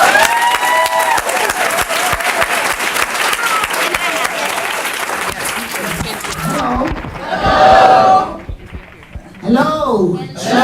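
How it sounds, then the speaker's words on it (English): An audience applauds loudly and steadily, welcoming a poet to the stage. The clapping fades after several seconds, and a voice begins speaking over the last scattered claps. "We're going to give her a really resounding applause."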